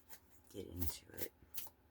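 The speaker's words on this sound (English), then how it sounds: "So I'm going to pull a few cards before" A deck of oracle cards being shuffled, with quick riffling flutters and soft rubbing in short bursts, close and fairly quiet, mixed with a voice talking.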